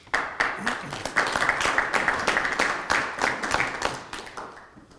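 Audience clapping at a town board meeting, a dense burst of handclaps that swells and then thins out over several seconds, fairly close, with a voice briefly audible underneath.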